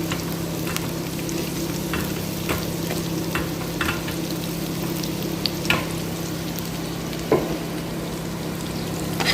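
Diced onions sizzle and crackle in a hot pan at the start of a chicken dish, a steady close-up frying hiss with occasional stirring scrapes and pops.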